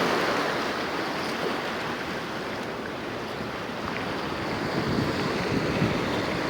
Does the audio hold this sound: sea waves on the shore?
yes